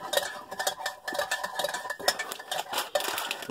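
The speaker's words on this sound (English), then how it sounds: "Well, she's stirring that." A spoon stirring MRE pinto stew with ham in its pouch or tray, giving close, quick scraping and light clinking strokes in an uneven rhythm with no talking.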